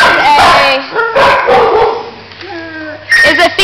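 A small terrier at an animal shelter gives a burst of sharp, close barks and yips, goes quiet with a soft whimper, then barks again. Other voices can be heard faintly.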